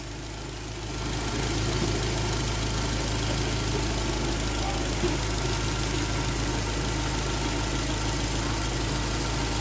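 Car engine idling steadily with metal conditioner product added, a constant low rumble with faint knocking vibration, close and loud throughout after a brief quieter start.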